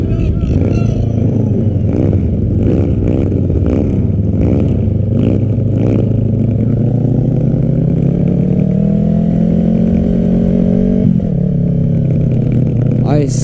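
A bobber-style motorcycle at an airfield bike event revs loud and close with repeated throttle blips, then settles into a sustained engine drone. Voices are audible throughout.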